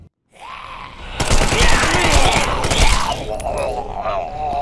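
Machine gun fire in The Sinking City, loud rapid bursts crackling for a couple of seconds after a brief silence, then fading into lingering rumble and game noise.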